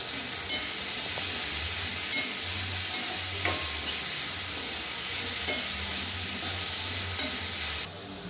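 Onions sautéed with salt in a pan for chicken curry, giving a steady sizzle and frying hiss, with faint stirring scrapes throughout and no talking.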